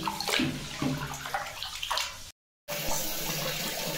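Water splashes and sloshes as finger millet is rinsed by hand, with running water nearby; the sound cuts out briefly, then continues.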